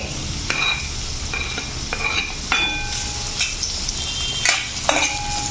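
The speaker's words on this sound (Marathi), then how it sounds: "जोपर्यंत आपला कांदा हा मऊ होत नाही तोपर्यंत आपल्याला हा कांदा परतून घ्यायचा आहे" Onion for poha sautéing in a pan hisses continuously up close, punctuated by sharp metallic clinks and scrapes of a spoon against the pan at irregular intervals.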